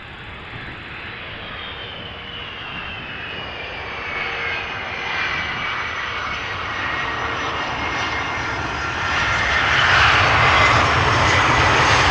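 An airliner lands at Amsterdam Schiphol Airport with a steady engine roar that swells and grows louder over several seconds as it approaches, heard from outdoors.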